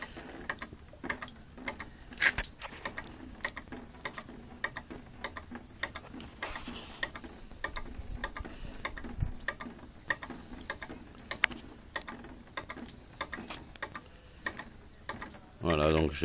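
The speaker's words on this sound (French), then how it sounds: "Petit bélier remonte de l'eau facilement." A small model Walton hydraulic ram pump working, its valve clacking in a steady, quick metallic ticking rhythm that repeats throughout, fairly close, with a brief splashy burst at the end.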